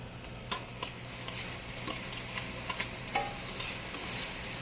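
Garlic sizzling in a pan during the braising of chicken thighs with artichokes, olives and capers, a steady low fry hiss broken by occasional clinks and scrapes of stirring, no voices.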